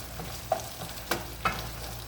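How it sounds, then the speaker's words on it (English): Garlic is thrown into a hot frying pan in a home kitchen, setting off a soft, close sizzle marked by three brief clatters or stirs. "Now I'm throwing some garlic."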